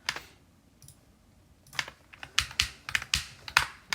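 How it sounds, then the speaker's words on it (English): Quick clicks from a computer keyboard or mouse while playing the Sonic Wave level in Geometry Dash, sparse at first and then in rapid uneven bursts, close and crisp with no voices. "Start clicking here, release here, start clicking here."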